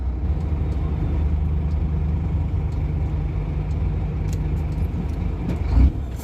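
An empty truck drives along with a steady, loud low engine rumble, a brief louder thump near the end, and no talking.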